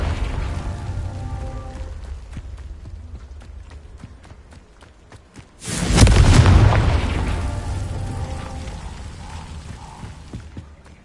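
A Confringo spell explosion in the Hogwarts Legacy video game: a sudden loud boom bursts over steady game sounds and footsteps, then fades slowly into a rumbling tail.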